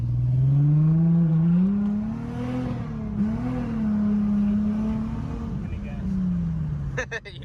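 Infiniti G35 engine at full throttle, a loud, close engine drone whose pitch climbs, dips and climbs again through the revs before easing off near the end.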